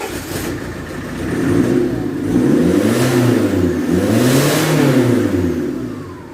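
A Peugeot 306 turbo engine runs close by just after starting, swelling into several rising and falling revs before settling back down.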